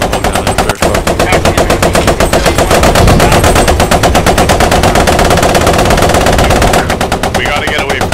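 Machine gun fire from a tank-mounted MG in the WWII shooter Post Scriptum, a loud, continuous rapid rattle of close shots running nearly unbroken for about eight seconds, with game ambience beneath.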